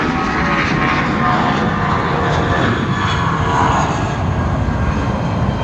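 A jet airliner roars steadily as it comes in to land at Brisbane Airport, a loud, continuous engine rumble heard from a plane-spotting position with no talk.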